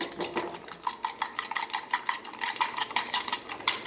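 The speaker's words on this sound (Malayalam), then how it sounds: "ഇത് നന്നായിട്ടൊന്ന് ബീറ്റ് ചെയ്തെടുക്കുക." Eggs beaten with water using a fork in a bowl for a bread omelet, giving a fast, steady clicking and scraping of metal against the bowl in close, even strokes with no talking.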